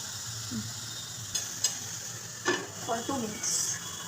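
A spoon stirs vegetables in a pan for mix veg paneer masala, with scraping clinks and metallic taps over a soft background hiss, a few separate strokes rising toward the end.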